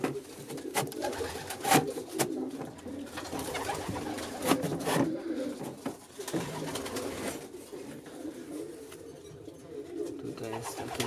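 Domestic pigeons coo in a loft where a pair sits on eggs, their low repeated calls running through the whole stretch amid faint rustling and a voice talking now and then.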